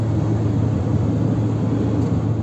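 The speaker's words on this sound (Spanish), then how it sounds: "Este es el sonido de la carretera durante la noche." Steady low rumble of road traffic, a continuous engine drone with no distinct passing vehicles, moderately loud and uninterrupted.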